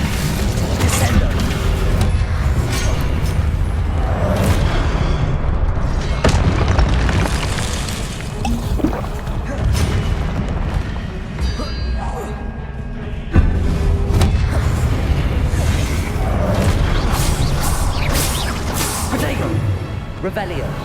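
In Hogwarts Legacy, the Descendo spell hits with heavy booming impacts and crashing thuds amid ongoing combat noise, loud and dense, with a few sharp bursts standing out.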